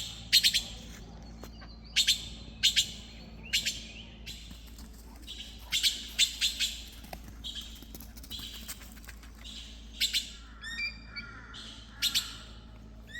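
Magpies call in woodland, sharp repeated chirps and squawks coming in bursts every second or two from more than one bird at moderate distance, over a quiet outdoor background.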